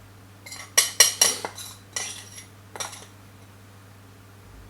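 A metal spoon mixes spices and chilli butter over cauliflower in a bowl, giving a quick cluster of sharp clinks and scrapes against the bowl that taper off into a few softer taps, close and clear, with no talking.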